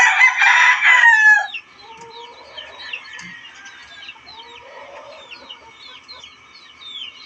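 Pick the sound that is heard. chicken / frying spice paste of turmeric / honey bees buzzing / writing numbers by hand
chicken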